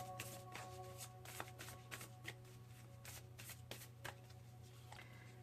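Fashion Oracle cards are shuffled by hand in a steady run of soft riffling slaps and flicks, faint and close with no voice over them.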